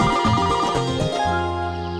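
A mobile phone ringtone plays loudly as a bright electronic melody of quick stepped notes, ending on a held tone.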